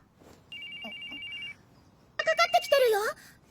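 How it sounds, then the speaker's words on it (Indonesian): A phone ringtone plays in a steady one-second electronic tone, then a brighter warbling melody follows, close and clear in a quiet room with brief speech in the background. "tiba-tiba telepon dari Mitsuki berbunyi"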